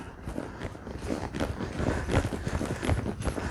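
Horse hooves thud and shuffle steadily on soft ground as a ranch horse is worked around in a circle, a continuous close trampling with no talk over it.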